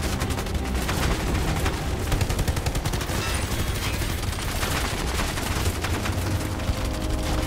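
Heavy machine gun fire in the mobile game The Division: Resurgence, a dense, loud, continuous burst of rapid shots and booming impacts filling the whole stretch without pause.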